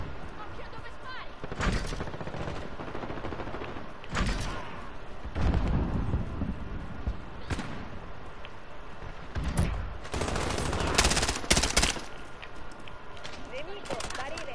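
Gunfire in the video game Call of Duty: Modern Warfare comes in repeated sharp bursts and volleys over a steady background, with players talking throughout.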